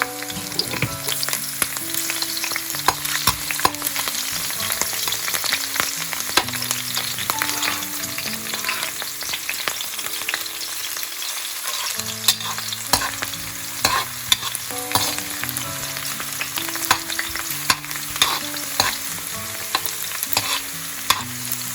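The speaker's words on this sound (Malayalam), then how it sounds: "നമുക്ക് കട്ട് ചെയ്ത് വെച്ചിരിക്കുന്ന വെളുത്തുള്ളിയും പച്ചമുളകും കൂടെ ചേർത്തൊന്ന് ഒരു മിനിറ്റ് ഒന്ന് വഴറ്റി." Chopped garlic and green chilies sauté in an iron pan with a dense, steady sizzle and frequent scraping stir strokes, close and loud, while a melodic musical backing plays underneath throughout.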